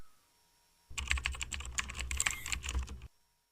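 Computer keyboard typed on rapidly for about two seconds, a close burst of crisp key clicks that starts and stops abruptly in an otherwise quiet room.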